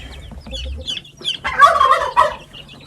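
Backyard chicken flock clucking and squawking at close range, soft low murmurs followed by a louder burst of overlapping cackles near the end.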